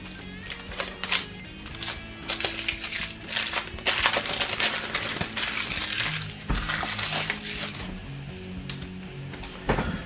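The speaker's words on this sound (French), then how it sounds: "deuxième paquet qu'on va essayer d'ouvrir au plus vite" A packet of Hero Realms cards being torn open, with dense crinkling, crackling plastic and paper wrapping, and sharp clicks and rustles close up over ten seconds.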